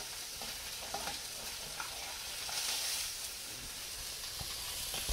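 Papio fish pan frying in oil, a steady close sizzle and hiss with occasional small pops and scraping stirs, heard alone without talk.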